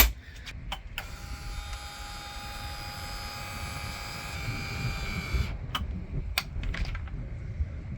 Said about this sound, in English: Let's put our little elevator back down.